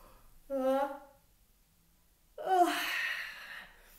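A single big yawn during a guided face-relaxation exercise, with a short voiced vocal sound first, a pause, then a long breathy open-mouthed yawn that swells and trails off, close and fairly loud.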